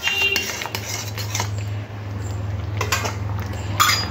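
A spoon stirs boiled masoor dal with drumsticks and potato in a metal pot, producing light scraping and clinking against the sides over a steady low hum, with a sharper clatter at the end.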